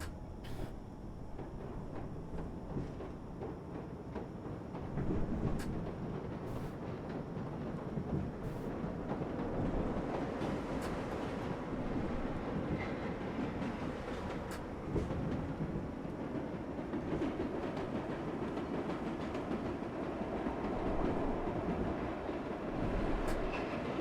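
Subway train running in the World of Subways 4 game on the number 7 local line to Main Street, Flushing: a steady rumbling roll with faint clickety-clack and occasional light squeals, continuous and close throughout with no talk.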